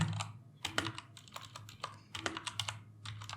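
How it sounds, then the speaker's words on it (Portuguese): Bursts of keystrokes on a computer keyboard as a short terminal command is entered, crisp clicking taps in quick uneven clusters, close and fairly quiet with no talking. "eu vou clicar aqui e vou digitar yarn"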